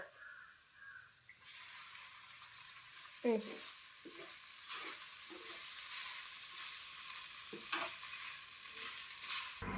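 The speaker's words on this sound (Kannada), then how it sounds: "ಈಗ ರೈಸ್ ಹಾಕಿ ಮಿಕ್ಸ್ ಮಾಡೋಣ." Rice being stirred into mango chitranna in a hot pan, a soft continuous sizzle with scattered scraping stirs and occasional clinks, fairly quiet and without talk.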